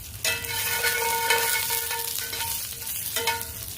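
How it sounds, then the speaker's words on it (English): Garlic and cipollini onions hit a very hot pan of about 600 degrees, a loud sudden sizzle flaring up and holding, then a second burst near the end as more goes in, close with no voices. "The pan is about 600 degrees, it's really hot. I toss on some garlic and some cipollini onions."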